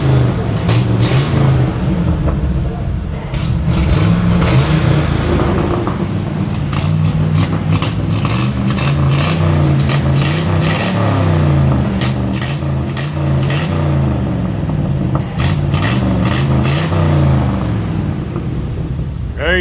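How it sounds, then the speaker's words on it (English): A warming truck engine revs repeatedly, its loud low rumble swelling and falling in several bursts with a raspy, popping exhaust edge, close by with no voices over it. "Let me rev it up just a little bit and see if she's warmed up some."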